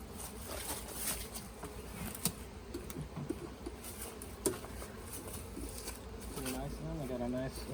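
Honey bees buzz around an opened hive, a faint, continuous hum with scattered soft knocks and clicks, and a voice speaks briefly now and then.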